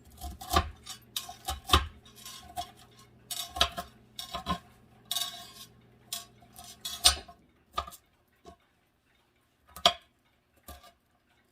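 A knife chops cabbage into small pieces on a board, giving irregular sharp taps in short bursts, close by, then a pause before a few sparse final knocks.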